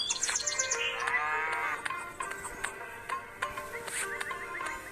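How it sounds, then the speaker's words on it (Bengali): A cow moos in the Meena mobile video game, giving a drawn-out low call over a game soundtrack with chirping birds and light clicking taps. "এটা হচ্ছে মিনাদের গরু।"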